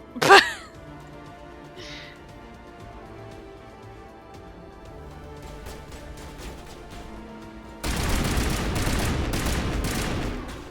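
Gunfire in the Mass Effect video game: a sharp shot near the start, then a dense, steady burst of firing that fills the last few seconds at a louder level.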